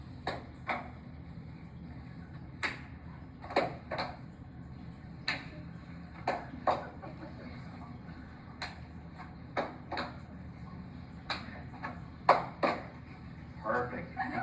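Students in a classroom clap out the rhythm of a normal heartbeat, producing sharp paired claps that repeat at a steady pace under a low background hum.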